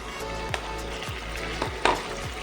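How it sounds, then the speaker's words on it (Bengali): Ginger garlic paste fries in a pan for chili mushroom, a continuous sizzle broken by several rhythmic stirring scrapes and a louder clack, close up, no voices. "এবার দিয়ে দেবো এই আদা রসুন বাটাটা পুরোটা"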